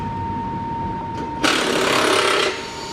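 Impact wrench on a 2022 Ford F-150 Hybrid, removing panel bolts during an oil change: one loud, close, rattling burst about a second long that cuts off sharply, with a steady hum underneath.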